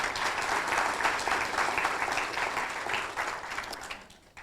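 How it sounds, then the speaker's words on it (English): An audience at a youth leadership decision-day event applauds, a broad steady wash of many clapping hands that gradually thins and fades out near the end. "Please give all of those great folks a round of applause."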